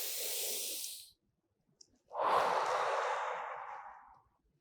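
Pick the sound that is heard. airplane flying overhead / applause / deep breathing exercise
deep breathing exercise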